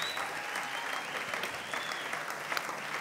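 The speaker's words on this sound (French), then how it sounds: "on peut les applaudir très très très fort" Audience at a comedy gala applauds steadily throughout, a dense, even wash of clapping from a large crowd with no pauses.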